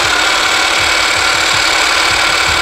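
A Makita HM0871C electric demolition hammer runs steadily at speed, giving a loud, constant motor whine layered over a fast, even hammering pulse, with no voices.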